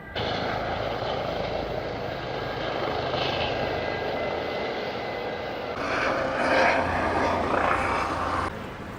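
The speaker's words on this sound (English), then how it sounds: "now I know why there's helicopters." A steady, loud drone of helicopters flying overhead near a fire in Rome fills the whole clip, rising slightly near the end.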